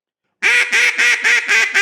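Six loud, close quacks blown on a handheld duck call in a quick even rhythm, each short burst stepping down slightly in pitch, alone with no talk.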